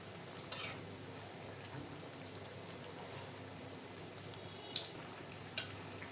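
Jackfruit kebab pakoras frying in oil, a faint, even sizzle that holds steady, broken by a few brief sharp clicks and taps, with no voices.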